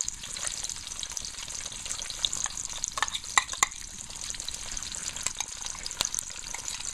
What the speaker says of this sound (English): Now I add the tomato paste.